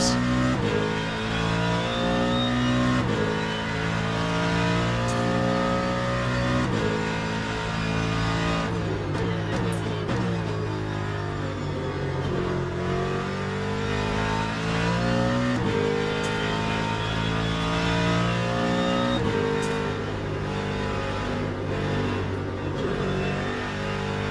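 Ford Mustang GT race car in the Le Mans Ultimate racing game, its engine roaring loud and steady throughout with rising and falling revs as it shifts through gears, no talk over it.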